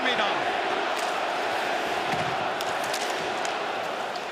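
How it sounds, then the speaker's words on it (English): An arena crowd roars at the Bell Centre during a Montreal Canadiens hockey game, a broad sustained din with a few sharp knocks, heard under a commentator's talk. "listen to the crowd here at the Bell Center"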